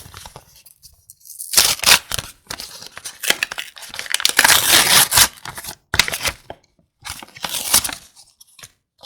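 Someone tears into a collectible toy blind-box package, close crinkling and ripping of plastic wrap in dense bursts with brief pauses, no voices.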